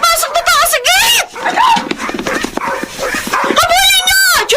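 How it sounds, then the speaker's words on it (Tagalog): Dogs barking at an intruder in a radio drama, yapping and whimpering in bursts mixed closely with excited shouting voices throughout. "Bakit tahol kayo ng tao?"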